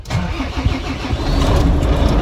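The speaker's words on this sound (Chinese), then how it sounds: "大家有没有听到引擎声还是非常顺畅的发动？" A large truck's diesel engine cranks and catches after being jump-started with an ST3000S supercapacitor jump starter, settling into a loud, steady, close idle rumble.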